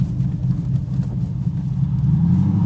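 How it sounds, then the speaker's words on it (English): A 1992 TVR V8S sports car with a V8 engine accelerating through the gears, a steady, loud, close engine drone that rises and holds throughout with no talking. "Let's take it through the gears again."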